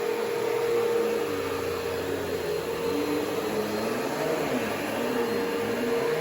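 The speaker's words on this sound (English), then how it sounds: "We're going to vacuum this way now." Vacuum cleaner running across an apartment floor, a steady motor whine with a constant hum and airflow hiss, moderately loud and close, shifting slightly in tone as it moves, with no speech.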